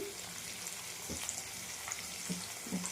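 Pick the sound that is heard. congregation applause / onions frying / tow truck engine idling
onions frying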